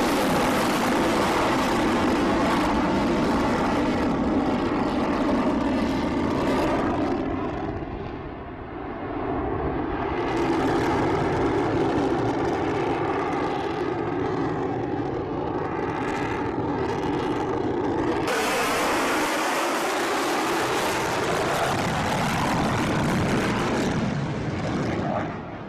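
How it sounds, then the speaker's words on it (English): Loud, continuous jet roar from an F-22 Raptor fighter flying over a runway, swelling and dipping with a brief lull near the middle before a harsh, broadband blast returns close by. "The F-22 Raptor."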